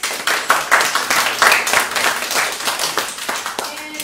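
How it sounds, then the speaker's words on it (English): Group applause at a bootcamp gathering, a steady patter of many hands clapping close by for about four seconds with scattered voices mixed in. "let's give ourselves a round of applause."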